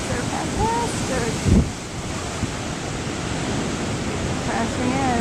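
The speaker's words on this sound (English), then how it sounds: "look at these waves. They're fantastic." Big ocean waves crash onto the shore at Laguna Beach, a steady broadband surf roar with wind buffeting the microphone, one heavier thump of a breaking wave midway, and faint voices of onlookers nearby.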